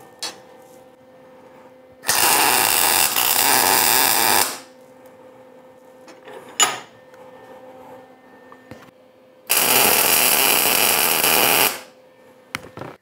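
Tack welds laid on a steel backing plate for a universal spare tire carrier build: two loud, sustained bursts of hissing, crackling arc, each about two seconds long, separated by quiet shop noise and a brief clank.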